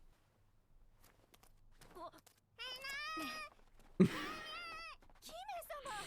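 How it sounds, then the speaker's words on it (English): A cat meows several times nearby, drawn-out, rising and falling cries with brief gaps, along with faint shuffling footsteps. "Oh, there's a noise. Is that a cat?"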